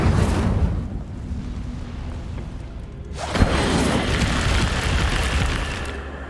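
The Incendio fire spell in Hogwarts Legacy: a roaring, rushing burst of flame that fades down, then a sharp pop followed by a second sustained whooshing blaze, loud and close.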